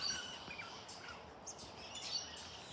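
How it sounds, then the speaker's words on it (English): Yellow cockatoos and lorikeets calling outdoors, faint scattered chirps and screeches at a distance over a quiet background. "Some yellow cockatoos, some lorikeets."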